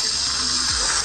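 A phone prank app imitating lemon juice being poured, giving a steady, close, loud liquid stream with a bubbling, gushing texture throughout, no voices.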